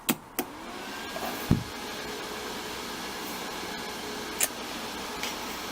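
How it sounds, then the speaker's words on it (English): A fan runs steadily behind a home-brewing temperature controller, a constant whirring hum with a faint tonal whine, broken by a few soft clicks and knocks near the start and end. "now the noise you can hear is the fan."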